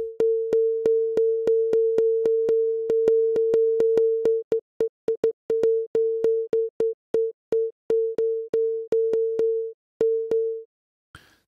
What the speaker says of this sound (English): currently it's just like a sine wave and not at all annoying